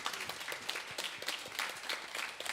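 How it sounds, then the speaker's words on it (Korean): A church congregation claps in thanks during a Sunday worship service, a steady, fairly quiet patter of many hands from a moderate distance, with no voices over it. "우리 하나님께 감사의 박수 올리겠습니다."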